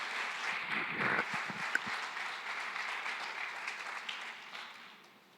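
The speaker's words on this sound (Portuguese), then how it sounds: "Se você concorda, aplauda o Senhor." A church congregation applauds together during a service, a steady wash of hand claps that holds for several seconds and gently fades toward the end, with no voices rising above it.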